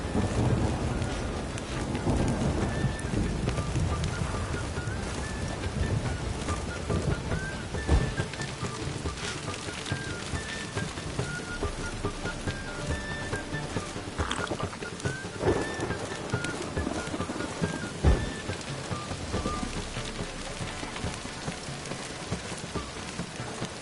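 Persistent heavy rain with rolling thunder in The Witcher 3: Wild Hunt, a dense steady wash of downpour broken by occasional sharper crackles and distant rumbles, with no talking.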